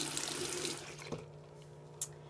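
Tap water runs steadily into a bathroom sink while a bar of soap and a makeup foundation brush are wetted, a soft close splashing stream that fades, with a couple of small knocks near the end.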